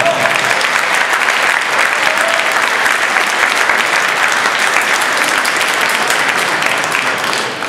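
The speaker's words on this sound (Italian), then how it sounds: "facciamogli un bel applauso" Loud, dense applause from the audience at a Christmas band concert in Portacomaro, a steady roar of many hands clapping that holds evenly throughout before easing slightly at the end.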